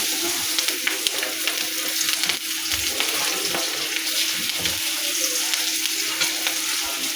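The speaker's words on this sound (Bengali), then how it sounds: "কালা জিরে ফোড়ন দেবো মাছ ভাজার তেলে।" Nigella seeds and green chillies sizzle and crackle in hot oil left over from frying fish, a close, continuous frying hiss with scattered pops and stirring clinks.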